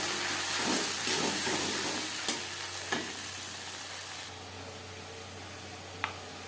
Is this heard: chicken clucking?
no